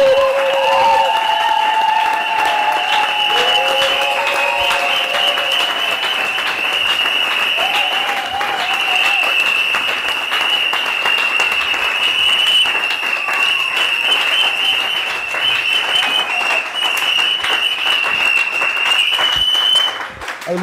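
A wedding congregation applauds for a full twenty seconds, loud, dense and steady, with a high sustained tone ringing above the clapping throughout.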